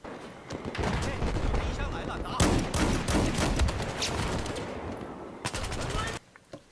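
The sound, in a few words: shotgun hipfire in a video game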